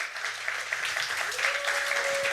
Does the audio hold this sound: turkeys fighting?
no